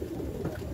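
Pet pigeons kept in a coop coo steadily in low, overlapping murmurs close by, a continuous soft throaty rumble with no voices.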